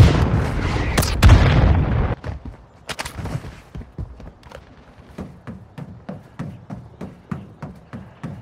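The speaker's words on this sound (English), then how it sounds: "Hostile mortar strike incoming" Mortar strike explosions in Warzone Mobile, a heavy booming blast followed by a string of sharp, repeated impacts and cracks that continue at a steady rhythm, gradually becoming lighter.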